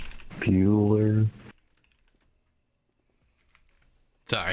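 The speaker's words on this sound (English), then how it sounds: "Sorry, typing to chat." Keyboard typing during an online board meeting, heard as a rapid, close run of clicks under a voice that talks over much of it, then trailing into quieter sporadic taps before talk resumes.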